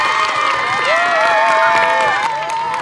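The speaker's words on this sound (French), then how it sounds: "vous pouvez les applaudir parce que c'est surtout par eux que ça passe" A crowd cheers and shouts with some applause for youth football coaches at a club award ceremony in Cerizay, loud and sustained with whoops and children's voices throughout.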